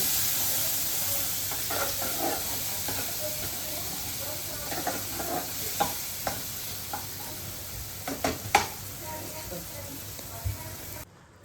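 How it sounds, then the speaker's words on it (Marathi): A masala paste with cashews is sautéed and stirred in a pan, giving a hissing sizzle with intermittent scraping knocks from the spoon before it cuts off abruptly. "जे पण वाटण काढले मगाशी ते सगळं मिक्स करून परतवायचं आणि त्यात काजू घालायचे"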